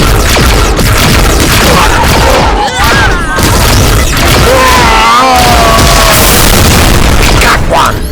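Weapons fire in a Doctor Who audio drama battle scene, with booms, crashes and bursts of shots layered over electronic warbling effects and shouting voices, dense and loud throughout.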